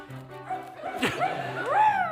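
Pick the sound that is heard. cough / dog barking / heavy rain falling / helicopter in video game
dog barking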